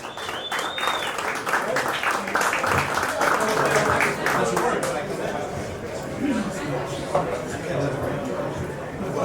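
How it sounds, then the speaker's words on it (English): Audience at a collectors' night event with auction house guests applauding as a guest comes up, a sustained burst of crowd clapping with scattered voices and cheers mixed in, fairly loud and close. "give him a round of applause"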